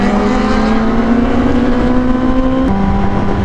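Superbike engine droning loudly and steadily nearby, a sustained high-revving tone that shifts pitch partway through as the machine passes.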